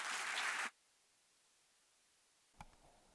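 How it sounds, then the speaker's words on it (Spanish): Audience applause for the Ibizan folk music group Sa Colla de Labritja, a brief dense burst of clapping that stops abruptly, followed by near silence and a single faint knock. "Un fortísimo aplauso para ellos."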